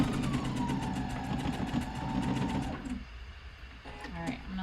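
A sewing machine runs steadily while stitching the waistband of lounge pants, its rapid mechanical whir lasting about three seconds before stopping, with a brief restart near the end.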